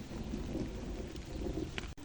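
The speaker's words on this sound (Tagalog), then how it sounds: "ang lakas ng ulan ngayon dito" Heavy monsoon rain during the habagat season in a rural Philippine province, a dense, steady roar of downpour with low rumbling throughout and no voices.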